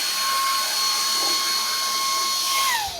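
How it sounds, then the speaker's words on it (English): A cordless handheld vacuum cleaner runs with a steady high-pitched motor whine and airy rush, close and loud, the tone dropping slightly as it winds down at the end; no talking. "Is a vacuum cleaner, cordless vacuum cleaner"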